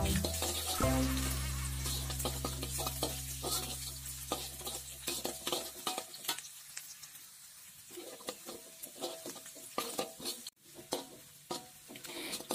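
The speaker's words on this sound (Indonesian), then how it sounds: "Lalu kita goreng bawang merah dan bawang putih ke dalam minyak panas secukupnya." Shallots and garlic fry in hot oil as a soft, steady sizzle with frequent close clicks and scrapes of stirring, moderately loud and without any talking.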